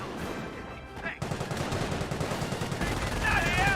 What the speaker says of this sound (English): Sniper uncamouflaged mode gets another shot off there